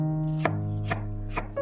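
A knife chops sliced garlic cloves on a cutting board, three sharp, close knocks about half a second apart and then a fourth, each ringing briefly over a low steady hum.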